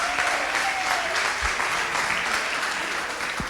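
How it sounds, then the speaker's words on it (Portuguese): A crowd at a Pentecost church retreat claps steadily and evenly throughout, a dense, moderately loud applause with no voices over it. "vamos aplaudi-los"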